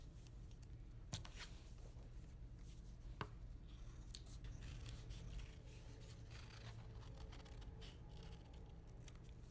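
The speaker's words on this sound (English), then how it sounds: "And we have to cut everything out now." Scissors cutting paper shapes out of a sheet, quiet close snips and paper rustles with a couple of sharper clicks near the start, heard alone with no talking.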